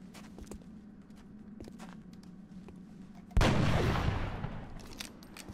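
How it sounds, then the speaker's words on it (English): A sniper rifle shot in XCOM: Enemy Within with the Long War mod, fired at a Thinman: quiet footstep-like ticks, then a single loud, sharp blast that rings out and fades over about two seconds. "I'll have McQueen take a guaranteed shot with his steady sniper rifle"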